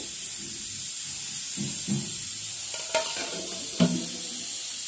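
A tempering for pulihora sizzles in a pan, giving a soft steady hiss with a few sharper crackles and light stirring clinks, close by.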